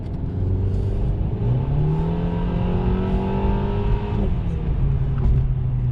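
A newly bought car drives off on the road, its engine humming and rising in pitch as it accelerates, steady and close from inside the cabin with no voices.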